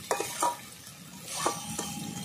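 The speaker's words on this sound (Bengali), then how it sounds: "এভাবে আস্তে আস্তে আমি কষিয়ে নিলাম।" Masala and potatoes for a rohu fish curry being sautéed in a pan, a few scraping stirs of a spoon against the pan over a low sizzle, fairly quiet and close.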